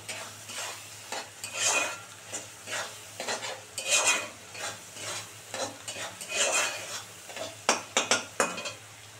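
Vegetables including pui shak stems, ridge gourd, pumpkin and potato stirred in hot oil with onion, garlic, turmeric and salt for a bhetki fish chorchori: steady sizzle with repeated close scraping and clinking of a spatula against the pan, no voices.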